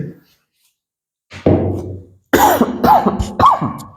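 A short throat sound, then a loud burst of several harsh coughs close to the microphone, with silence between.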